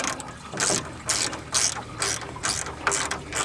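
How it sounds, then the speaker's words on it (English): A small ratchet wrench clicks in a steady run of quick bursts, close and clear, while working on the fan clutch of a 1987 Ford F150 inline six. "I love these little ratchet wrenches."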